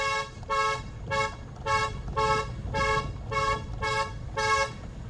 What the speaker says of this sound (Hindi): कोशिश कीजिए ऐसी जगहों पे एक आध बार हॉर्न दे दीजिए।